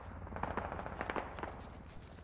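An enemy autocannon in the Squad video game fires a rapid string of muffled, far-off bursts. The shots are faint and thud in a quick, uneven rhythm for a couple of seconds.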